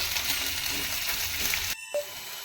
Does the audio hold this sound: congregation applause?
no